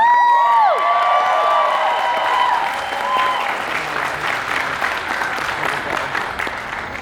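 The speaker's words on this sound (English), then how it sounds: "Please give a huge round of applause for Cybera!" Audience applause fills a fursuit dance competition hall, dense steady clapping with scattered cheers and whoops, loud and close at first and then holding at a slightly lower level for about seven seconds.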